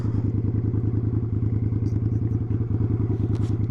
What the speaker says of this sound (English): I'm going to back the bike in.